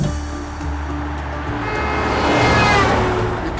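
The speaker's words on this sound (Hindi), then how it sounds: "ये कैसे चला रहे हो गाड़ी?" A car being driven, its steady engine rumble and road noise filling the cabin and swelling slightly louder toward the end, with no voices.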